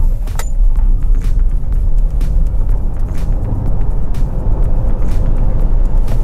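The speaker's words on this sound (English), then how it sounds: "So now we have an opportunity to test this car 0 to 100 kilometers an hour" A Hyundai Ioniq 5 electric car in sport mode accelerating hard from standstill toward 100 km/h, heard from inside as a steady, loud rumble of road and tyre noise with faint ticks and no spoken words.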